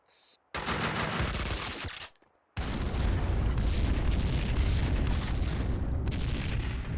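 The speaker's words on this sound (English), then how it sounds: "I need to shoot that box" Gunfire in Max Payne 2: The Fall of Max Payne, shooting at a box: a loud sustained burst of rapid shots, a brief silent gap, then a longer dense barrage of booming blasts and heavy rumble.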